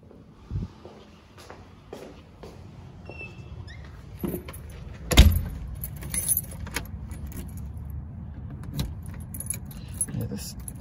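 Keys jangle and rattle at a door lock during a post-closing house walk-through, with one sharp metallic clack midway over a low steady background rumble.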